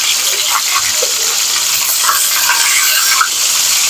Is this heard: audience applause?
no